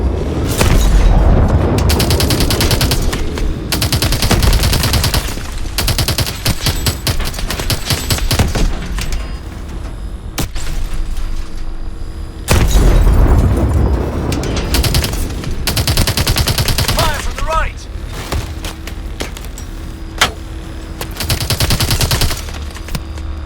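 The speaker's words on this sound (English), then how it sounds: "Use missiles against them. Switch to missiles." Call of Duty: Advanced Warfare combat with missile launches and heavy gunfire: loud bursts of rapid automatic fire and booming blasts in dense, repeated volleys separated by brief lulls.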